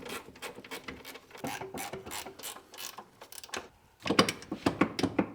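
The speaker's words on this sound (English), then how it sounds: "And a ratcheting box wrench to make this go much easier." A ratcheting box wrench clicks rapidly in repeated bursts while tightening running board bolts on a Ford F150 during an install, close and crisp, with a louder, more forceful run of clicks toward the end.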